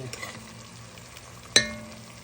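Sardines cooking down in a pan for a Guyanese meal, a quiet continuous sizzle with faint stirring and one sharp metallic clink of a utensil partway through.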